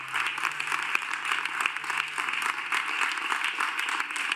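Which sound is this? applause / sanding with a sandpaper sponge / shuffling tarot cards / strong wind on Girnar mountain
applause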